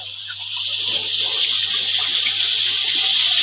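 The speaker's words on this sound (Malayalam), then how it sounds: "ഇനി ഇച്ചിരി പുളി ഒഴിക്കണം." Tamarind water pours steadily into a container with a continuous splashing gush, close and fairly loud, and no talking.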